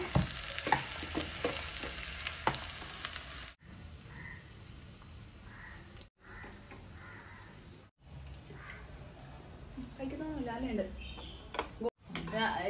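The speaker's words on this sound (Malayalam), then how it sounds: "ഇനി ചെറിയ ഉള്ളി ചെറുങ്ങനെ മുറിച്ച് വെച്ചത് ഇട്ടിട്ട് ഇടുക." Chopped shallots fry in coconut oil with a steady sizzle and bursts of stirring, broken by a few short silent gaps, while a person talks over the cooking.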